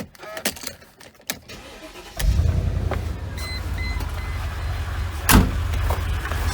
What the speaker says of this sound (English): First we're going to start the car.